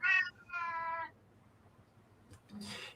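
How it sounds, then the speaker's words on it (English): A pet cat gives two close, clear meows in quick succession, the second longer and drawn out, followed by a pause and a short, higher chirping call at the end. "It just sounded like your cat said, "Remember.""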